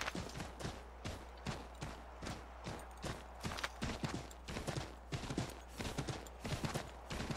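Steady, rhythmic clip-clop of horse hooves at a walking pace in Assassin's Creed 3, loud and close over a constant low background drone.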